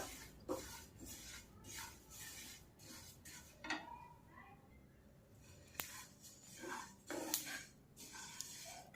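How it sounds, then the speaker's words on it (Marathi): Sesame seeds roasting in a dry pan give off soft intermittent crackles and pops with light scraping of a spatula, quiet and close with no talking. "आता चटचट आवाज येतोय तीळ भाजत आलेत आपले"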